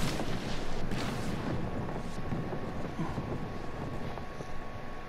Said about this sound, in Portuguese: Cai os míssel.